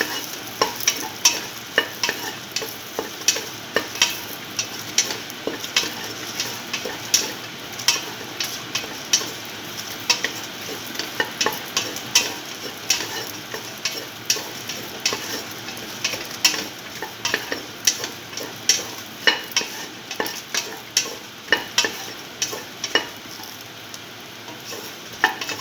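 A spoon stirs beef okra stew with red chilies in a pan. It scrapes and clatters in quick, steady strokes over a soft continuous sizzle.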